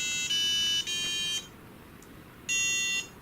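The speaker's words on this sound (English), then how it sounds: "We can sound the buzzer." Two sharp electronic buzzer beeps from a Makeblock mBot robot, one long and then a pause before another, loud and close with a quiet hum between them.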